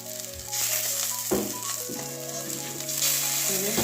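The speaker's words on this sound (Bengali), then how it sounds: "কড়াইতেই করছি তো ওইদিকেও এইরকমই লাল লাল করে ভেজে নেব" Stuffed flat beans frying in a wok, a loud continuous bright sizzle with an occasional knock of a utensil and faint tonal hum in the background.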